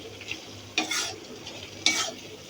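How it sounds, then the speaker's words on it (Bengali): Fish mixture stirred in a hot frying pan, two loud scraping strokes of a spoon against the pan over a steady low sizzle, close up with no talking. "এখন এগুলো একটু নেড়ে মাখা মাখা করে তারপরে নামাই খাবো।"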